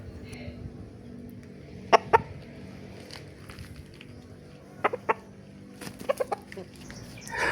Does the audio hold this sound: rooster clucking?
yes